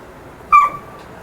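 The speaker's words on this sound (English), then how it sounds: "That's my dog." A pet dog lets out one short, high whimper close by, the only clear sound in a quiet indoor room during an art session.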